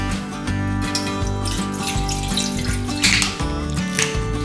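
Two litres of apple juice poured for mango cider, a continuous gurgling liquid stream splashing into a container, close and steady, with a light background music bed.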